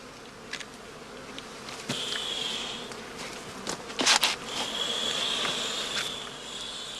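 Honey bees buzz around an opened basket hive while a beekeeper feeds them and lifts off the covering cloths. A steady buzzing swarm hums close by, with single bees zipping past loudly now and then.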